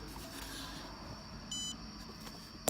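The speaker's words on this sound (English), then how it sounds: "Beeps." A VXDiag VCX Nano GM scan tool interface gives one short, steady electronic beep as it is plugged in over USB, heard alone against faint room hiss, followed by a brief click.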